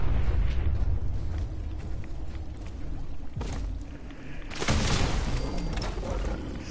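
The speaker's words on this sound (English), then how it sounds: "that's gonna explode" A heavy explosion in Fallout 4, a loud sustained rumbling blast with a sharp burst partway through, lingering as a broad roar with no talk over it.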